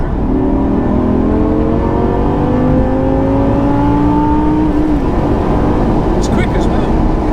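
A 2000s performance car's engine pulls hard through the gears in third, its rising, steady drone climbing toward high revs, loud and close, then easing off near the end.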